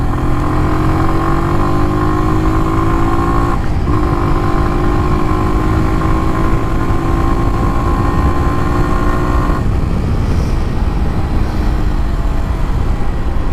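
A Kawasaki W175 motorcycle is ridden at steady speed, with a continuous engine note that dips briefly at a gear shift, then changes pitch again as another shift is made, all under constant wind noise.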